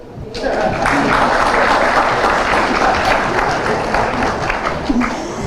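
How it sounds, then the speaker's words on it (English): Applause from a crowd at a Caribbean school results announcement, steady dense clapping that sustains for several seconds, loud and close. "You can applaud."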